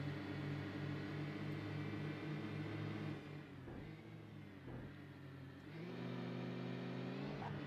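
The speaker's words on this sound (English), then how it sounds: "You can hear that turbo, very nice." A race car in a racing video game on a Seattle circuit drones steadily with a layered engine tone, dipping briefly mid-clip before the whine of the turbo rises again, loud and continuous with no talk.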